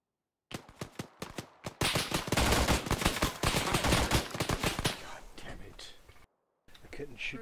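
Heavy machine gun fire in Insurgency, starting with spaced single shots that build into dense, continuous automatic bursts, then a brief silence and another burst, with voices talking over parts of it.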